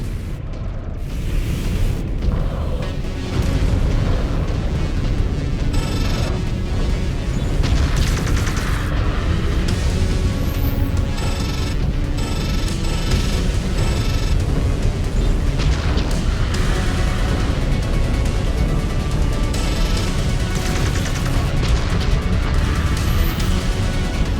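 Weapon impacts and explosions from a mech combat video game, a dense run of booming blasts and bursts that stays loud and continuous throughout, with no voices heard.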